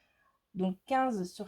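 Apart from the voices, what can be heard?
cat meowing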